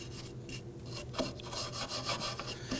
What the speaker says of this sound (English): Let's go ahead and clean this backing plate here.